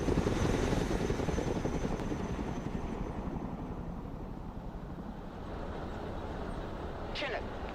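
Chinook twin-rotor helicopter in the Broken Arrow video game, a steady close rotor roar with dense low thudding throughout, easing slightly partway, while a voice speaks over it.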